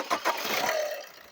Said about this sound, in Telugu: ఇదండి, సింగిల్ సెల్ఫ్ అయితే స్టార్ట్ అయింది బండి.